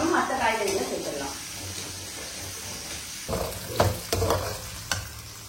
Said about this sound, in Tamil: ஸோ வெங்காயம் போட்டு ஒரு 1 நிமிஷம் இந்த மாதிரி வதக்கிட்டு